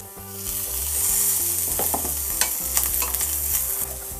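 Potatoes sizzle steadily in a hot pan, with stirring scrapes and crackles popping up close by over a low background hum.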